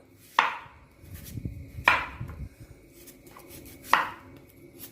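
A knife chops through a banana stem on a cutting board in three sharp, separated strokes, close and distinct against a quiet kitchen background.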